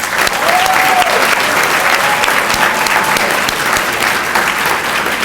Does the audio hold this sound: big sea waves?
no